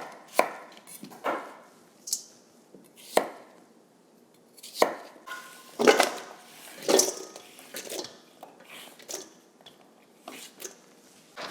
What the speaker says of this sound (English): I'm gonna chop these and then I'm gonna wash them one more time